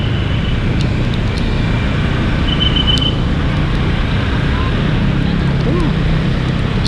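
Jammed road traffic near Pakansari stadium on a rainy match day, a loud steady roar of engines and wind noise with a faint horn or two in the distance.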